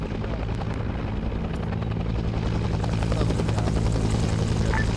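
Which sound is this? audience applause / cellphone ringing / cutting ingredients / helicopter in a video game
helicopter in a video game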